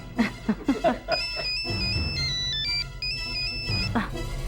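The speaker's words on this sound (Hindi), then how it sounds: "जिसका इंतजार था उसी का फोन है।" A phone ringtone plays a bright electronic melody of stepped tones for a few seconds, following brief speech and continuing under a low background.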